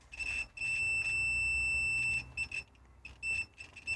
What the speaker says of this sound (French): Alors ça bip un petit peu